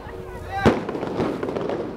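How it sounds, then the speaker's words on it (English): Fireworks go off in China, one sharp near bang followed by a scatter of fainter crackles and pops, with voices talking underneath. "They're about to set up all these fireworks."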